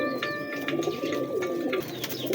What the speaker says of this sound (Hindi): ले दोस्तों ये कबूतर है